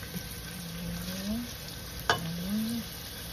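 Garlic and onion browning in a pan for beef pochero, a soft sizzle with stirring scrapes and a sharp clink partway through, close and fairly quiet.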